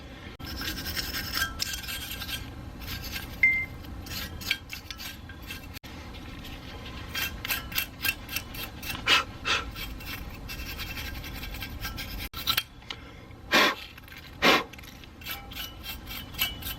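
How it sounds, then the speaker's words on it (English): Wire brush scrubbing brake dust and grime from the metal pad clips of a 2010+ Lexus GX460 / 5th-gen Toyota 4Runner rear brake; close, raspy scratching strokes in irregular bursts, with sharper scrapes near the end. "You're going to clean off all this brake dust and grime out of the metal clips that the pads slide on."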